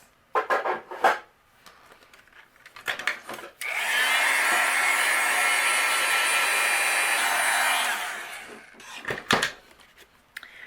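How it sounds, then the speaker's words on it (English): A heat gun melts clear embossing powder on a handmade birthday card, roaring steadily for about four seconds, close and loud, between quieter tapping and handling noises. "And then I'll use my heat gun and we will melt this."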